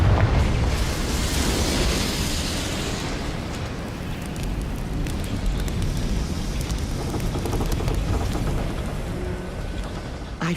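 Confringo blasting-spell explosion in the Hogwarts Legacy video game: a loud, sustained roaring blast with crackling debris that rumbles on steadily for about ten seconds without easing off, with no talking over it.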